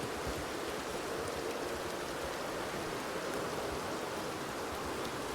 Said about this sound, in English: The rain's a bit loud.